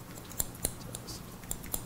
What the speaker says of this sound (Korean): 이제 가위로 하니까 시즈 오콤이죠